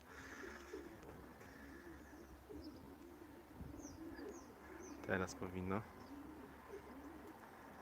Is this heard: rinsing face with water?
no